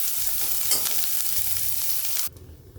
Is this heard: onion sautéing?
yes